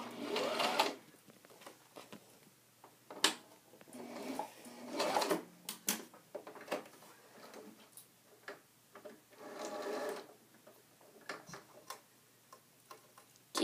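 A sewing machine stitches fabric for a homemade emoji pillow in short, rattling bursts with pauses between runs, close and fairly quiet, with no talking.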